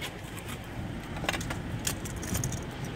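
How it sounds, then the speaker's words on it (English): Two car keys for a 2014 Kia Cadenza jangle together in a hand, with close, bright metallic clinks in short bursts over a quiet background. "I do have two keys with the car, Chris."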